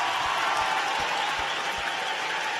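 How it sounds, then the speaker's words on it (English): Audience applause at a state FFA convention keynote, a steady wash of many hands clapping with a few low thumps underneath, fairly constant throughout. "Give these guys a big round of applause."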